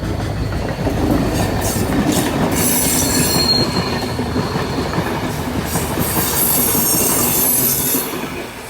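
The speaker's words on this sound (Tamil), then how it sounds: "ட்ரெயின் வந்து டக்குன்னு மூவ் ஆகிட்டு" A train rolls steadily past at close range at night in Pettah, Colombo, wheels rumbling and rattling on the rails with high metallic squeals rising over the noise.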